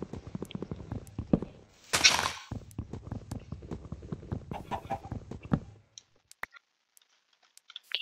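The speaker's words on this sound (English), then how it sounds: "why are chickens just laying eggs so much right here?" Chickens in Minecraft Java survival cluck in quick, close bursts with one sharp louder noise partway through, then near quiet with a few faint sounds.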